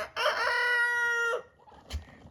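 A pet poultry bird lets out one loud, drawn-out crowing call lasting about a second, followed after a pause by a short, softer cluck.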